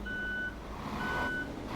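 Reversing beeps from a Mercedes Axor 1840 truck in Euro Truck Simulator 2, two steady high electronic tones a short pause apart over a low engine rumble, no talking.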